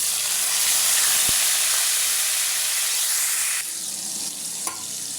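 Onions sizzling in hot oil in a pan for chicken curry, a steady loud frying hiss with no talk, easing slightly toward the end.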